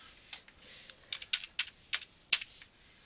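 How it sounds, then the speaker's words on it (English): A computer keyboard being typed on to enter an elevation value in surveying software, a short burst of about ten light, close key taps in an uneven rhythm. "Now I want to type in my elevation for that call out."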